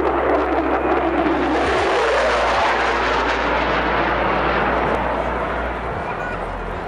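A jet aircraft roars past overhead, a loud continuous rushing engine noise that holds steady and then slowly fades.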